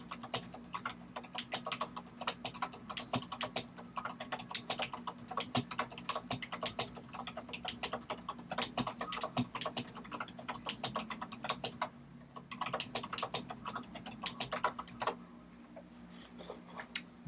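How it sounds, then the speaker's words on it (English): Rapid, steady clicking of fingers typing on a computer keyboard, close and continuous, with a brief pause partway through and a low background hum underneath. "we will now type sample text beneath our heading 3"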